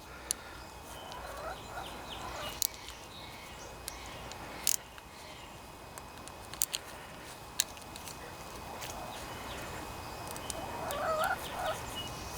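Backyard chickens wanting out of their coop cluck and call intermittently, faint to moderate against a steady background hiss, with a few sharp clicks and a louder burst of calls near the end.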